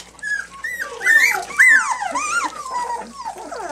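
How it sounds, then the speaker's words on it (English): A puppy at its first water bowl whimpers and yips in high, wavering cries that rise and fall continuously, close and fairly loud. "this is the puppy's first experience with a water bowl"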